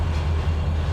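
Train running on track in Trainz 2022, Tidewater Point route: a steady low rumbling drone holds throughout, loud and even with no distinct clicks.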